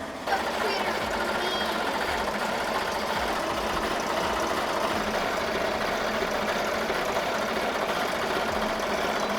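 An embroidery machine stitching a shirt gives off a steady, even mechanical whir and rapid needle chatter that runs unbroken and fairly loud throughout.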